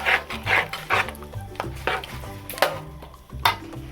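A utensil stirs macaroni and sardines in a pan, making repeated close scraping swishes about every half second, with an occasional sharper clink against the metal.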